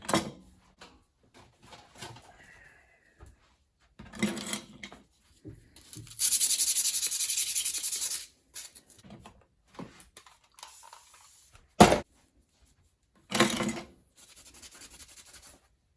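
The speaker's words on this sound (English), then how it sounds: "Let's take the sandpaper to it." Sandpaper rubs in short bursts against an old Channellock tool from an estate sale, with scratchy strokes separated by quiet gaps, a longer rasping stretch in the middle and a sharp clack near the end.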